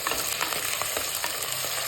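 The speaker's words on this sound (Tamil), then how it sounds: "நல்லா கொஞ்சம் வதங்கட்டும்." Shallots, curry leaves and green chilies fry in a pan for a fish curry, giving a continuous close sizzle with light stirring scrapes and no voices.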